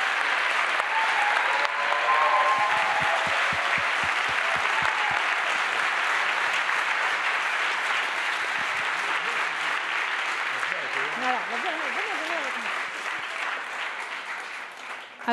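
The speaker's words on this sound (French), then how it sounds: "je veux bien un tonnerre d'applaudissements pour eux, s'il vous plaît" Sustained audience applause at a French eloquence contest awards ceremony, loud and steady for about fifteen seconds, with brief voices and cheers rising over the clapping before it slowly tapers.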